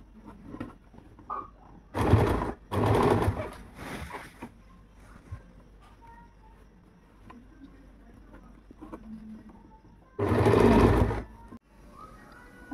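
A sewing machine stitches elastic onto the back of sharara pants in three short bursts, two close together early and one later, loud and close against a quiet room with faint handling noises between.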